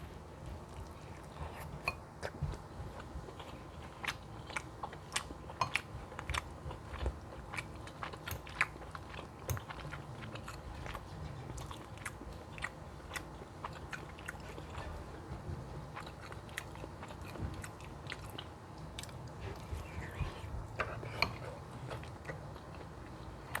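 Pasta with meatballs and cheap tomato sauce chewed close to the microphone, a quiet continuous stream of small wet clicks and soft bites with no talking.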